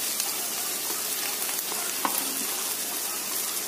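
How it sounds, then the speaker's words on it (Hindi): Onion and capsicum sauté in a pan for a paneer roll filling, a steady soft sizzle with faint occasional stirring clicks, fairly quiet, with no talking. "हल्का हल्का इनको सौते करना है"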